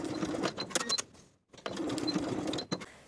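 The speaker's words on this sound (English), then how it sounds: "Sew both sides with a 3/8 inch seam allowance." A sewing machine stitching the back pocket seams of jeans, two quick bursts of rapid needle clatter separated by a short pause, close and fairly loud.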